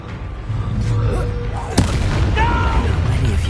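An Incendio fire spell blasting in the Hogwarts Legacy video game, heard as a sharp booming burst amid ongoing combat rumble and whooshing effects, with voices speaking around it.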